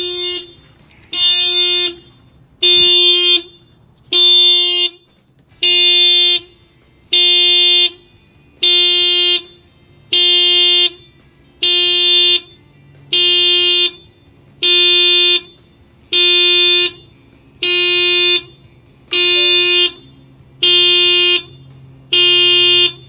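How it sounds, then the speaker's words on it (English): A 2013 Honda Civic's aftermarket theft alarm blares in loud, evenly spaced electronic horn blasts, about fifteen regular on-off pulses heard up close with no talking. "I'm going to go ahead and trip the alarm."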